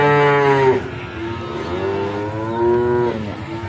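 A young female cow at a cattle market moos twice, loud and close, each call a long low drawn-out tone, the second following after a short pause.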